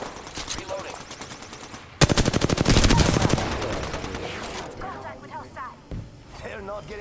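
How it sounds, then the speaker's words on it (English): Rapid automatic gunfire rattles loudly for over a second in an Apex Legends firefight, a dense burst of shots amid game noise, with voices talking before and after the volley. "I am taking fire, friends."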